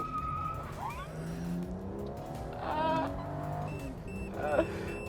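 Car launched hard from 0 to 100 km/h in a maximum performance mode, with tyres squealing in wheel spin over a rising engine note, and a voice talking over it now and then.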